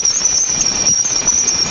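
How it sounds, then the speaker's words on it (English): A steady high-pitched whistling tone wavers slightly over a dense hiss, an eerie electronic-sounding signal that holds constant throughout, recorded by the Juno spacecraft at Jupiter's bow shock. "The bow shock, where the supersonic solar winds are heated and slowed by Jupiter's magnetosphere, produced some distinctive whistling patterns."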